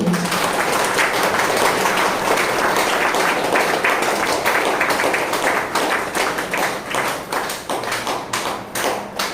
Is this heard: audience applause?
yes